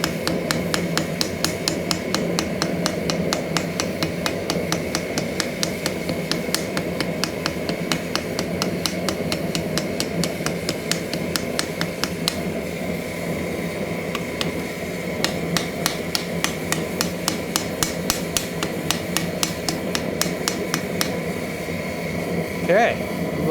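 Rapid, regular metallic taps from a ball peen hammer dome over a metal pin close by, continuing steadily over a constant background hum.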